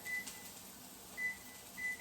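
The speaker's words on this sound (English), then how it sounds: "And there's our timer." A kitchen timer gives faint, short electronic beeps, spaced out in three brief bursts over a low background hiss during stovetop cooking of carrots.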